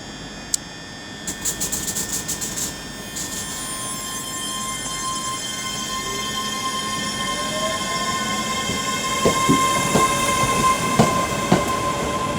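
ScotRail Class 385 electric train at Glasgow Queen Street station, loud and close, with a steady rolling rumble, rising squeals and tonal whines from the wheels and motors, and a few clicks and clanks as it moves.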